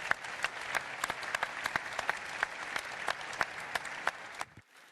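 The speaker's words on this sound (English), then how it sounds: "Big round of applause," An audience at a tax symposium claps steadily for several seconds, dense and fairly close, then the applause cuts off abruptly.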